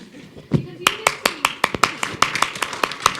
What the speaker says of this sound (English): Clap, guys, come on.